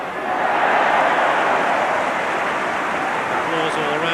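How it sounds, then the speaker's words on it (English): A rugby crowd at a Leeds v Widnes club match in 1989 applauds a player, a broad, steady wash of distant clapping and crowd noise filling the whole stretch without pause. "Applause all around for Izzard."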